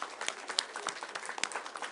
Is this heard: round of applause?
yes